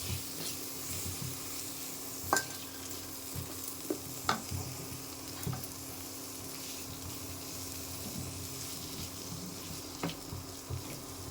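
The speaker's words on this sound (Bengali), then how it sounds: "এখন টমেটো দিয়ে দিলাম, টমেটো কুচি।" Chopped tomato fries in a pan with fish, onion, garlic and ginger, giving a steady sizzle throughout with occasional sharp clicks and scrapes from stirring, close and fairly quiet.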